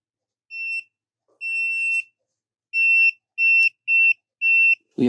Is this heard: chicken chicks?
no